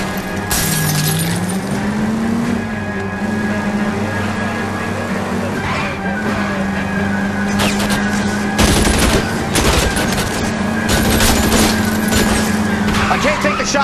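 Gunfire in the L.A. Noire video game: repeated sharp shots and bursts over a constant engine drone, with breaking-glass crashes mixed in and voices talking throughout.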